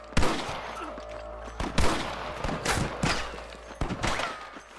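Gunfire in the Red Dead Redemption video game: sharp, loud shots fired irregularly in a dense exchange, with several close reports and scattered distant cracks.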